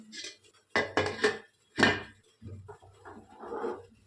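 A metal pan is set down on a gas stove while tempering for homemade idli sambar, a few sharp clanks and scrapes of cookware near the mic, separated by brief quiet gaps.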